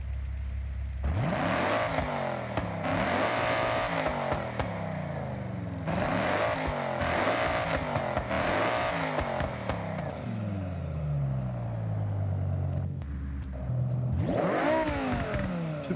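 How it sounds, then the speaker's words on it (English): A 6.2 liter Hellcat V8 revs hard in Forza Horizon 6, climbing through repeated gear shifts with loud rising sweeps and brief drops, then a final surge after a lull. "The Hellcat engine."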